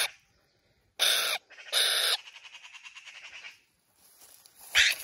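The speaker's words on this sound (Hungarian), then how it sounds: "Ezek a lopó szarkák." Loud, harsh magpie chatter in sharp bursts, a rapid rattling series between them, then another squawk near the end; close by, no talking.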